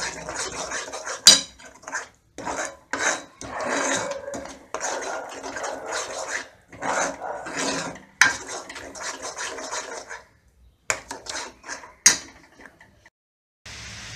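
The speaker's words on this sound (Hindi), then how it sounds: "गरम मसाला और नमक डालेंगे और इसे तेल छोड़ने तक इस मसाले को हम भूनते रहेंगे" Garam masala spice paste with salt roasting in a pan for rajma, a spoon scraping and clinking against the pan in repeated close bursts with brief quiet gaps.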